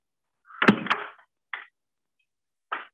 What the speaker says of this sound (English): We've got the door swinging properly.